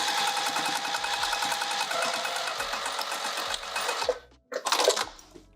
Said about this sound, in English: That's right where I'm sewing.